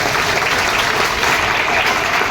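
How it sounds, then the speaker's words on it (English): Spectators at St. Paul's school sports meet give a big round of applause, dense and loud clapping from a large crowd that stays steady for the whole moment. "give yourselves a very, very big round of applause"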